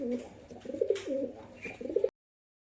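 Pigeons coo in a cage, a red-and-white male and a black-green female pair, with a few close, repeated soft cooing phrases and no talk.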